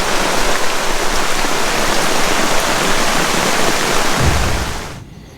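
Heavy rain pours down at night at Filemon Camp, a dense, loud and steady wash of falling water that fades out near the end.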